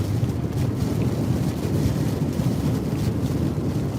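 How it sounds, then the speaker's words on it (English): Hurricane Ida's northeast winds roar in Louisiana, a loud, continuous rumbling rush with buffeting gusts pounding the microphone throughout, no voices heard. "Winds are out of the northeast at 80, probably gust 100 at times."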